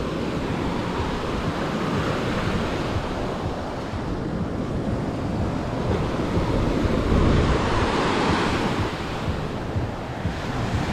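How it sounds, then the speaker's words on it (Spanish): Sea waves roll and wash steadily onto a beach strewn with sargassum, a continuous broad surf roar with gentle swells in strength and some wind buffeting the microphone, with no voices. "con el ruido del mar"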